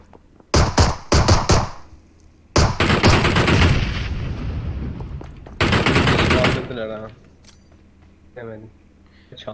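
Loud automatic gunfire in a video game, arriving in several sustained bursts with short gaps between them, with a player's voice heard in the mix.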